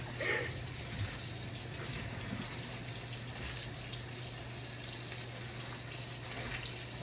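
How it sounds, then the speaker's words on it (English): Tap water runs steadily into a kitchen sink as lettuce is washed, a constant close splashing hiss with faint handling sounds and no talk. "And I am washing my lettuce."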